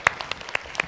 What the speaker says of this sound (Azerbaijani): Alqışlayırıq.